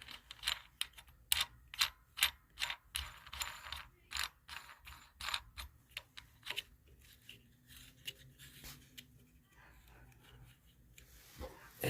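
A wing nut is turned by hand onto the air cleaner of a Coleman CT200U mini bike, giving rapid close ratcheting clicks in bursts that thin out toward the end.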